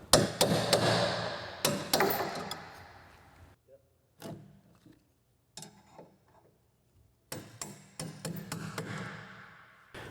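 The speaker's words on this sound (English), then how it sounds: "I just use the handle of the hammer, pry them down a little bit, and then finally take a punch to drive them down below the surface." Hammer and punch driving bolts down into a wooden pallet while assembling a SuperMax 25x2 double drum sander, heard as sharp close metallic strikes in quick bursts, with a quiet gap in the middle.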